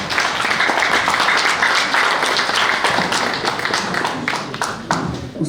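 Audience applause for Omar Aramayo at a public event, a steady dense wash of clapping that carries through the whole stretch at even loudness with no talk over it.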